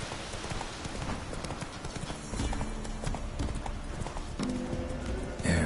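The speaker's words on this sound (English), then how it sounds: "so fast, Roach." Hooves of the horse Roach clip-clopping at a fast gallop in The Witcher 3 video game, a steady rapid rhythm under ambient game sound and music, with no talk.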